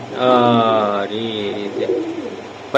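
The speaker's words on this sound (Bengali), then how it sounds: "জোড়া দুবাই কবুতর ভাই দুবাই কবুতর এটা দুবাই কবুতর" A pair of Dubai pigeons, running birds kept by a fancier, give a loud, close, drawn-out coo with a rich layered tone, followed by softer rolling calls and faint background voices.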